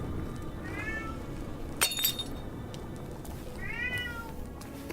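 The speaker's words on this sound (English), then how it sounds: "was that your cat meowing or was I hearing one of our cats meowing frantically?" Two frantic cat meows rise and fall in a Thief VR game, separated by a brief glassy clink and crash, all over a steady low ambient rumble.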